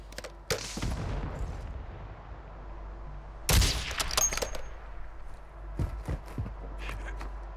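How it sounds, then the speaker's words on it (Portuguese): Sniper rifle shots ring out in the Warzone video game, two loud sharp bursts a few seconds apart, followed by scattered smaller cracks and impacts against a steady game background. "falando em acertar PQD de sniper"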